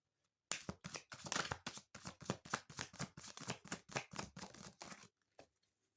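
Tarot cards are shuffled close up in a quick run of crisp riffling bursts, about a dozen in rhythm, ending with a soft tap.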